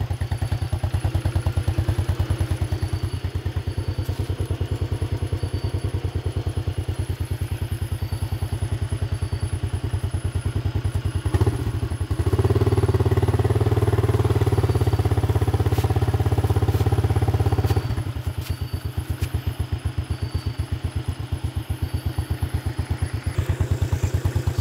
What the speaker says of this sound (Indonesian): Motor klasik.